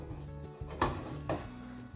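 Food sizzles and fries steadily in a pan, a continuous crackle with two brief sharper bursts partway through, close and alone with no talking.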